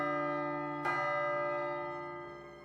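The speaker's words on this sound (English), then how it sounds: "Just then we heard a sound carried from afar. The sound of the morning bell." A distant morning bell in a video game strikes once with a clear attack, then rings on with a long, resonant, slowly fading tone over a steady tonal musical backdrop, with no voices.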